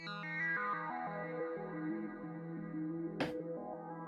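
Native Instruments Massive stock Outro synth preset, a soft, chorused and echoing sequence of stepped melodic notes with a brief noisy burst near the end, played alone at low volume.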